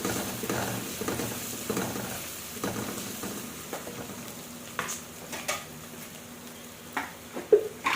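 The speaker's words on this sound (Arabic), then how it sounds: "بعد كده انزلي بمعلقه كبيره من الصلصه، قلبيها بقى كويس" A large spoon stirs tomato sauce in a pot over a soft background sizzle, with scraping strokes and occasional light clinks against the metal, close by and without talk.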